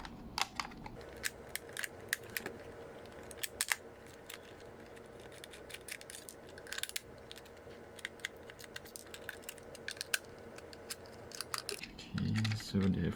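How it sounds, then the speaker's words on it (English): Removing screws from an E99 Pro2 drone controller: faint, scattered small clicks and scrapes of a screwdriver working on the plastic housing, close by and quiet, with a voice speaking near the end. "we have a screw here, and then we will remove the screw between."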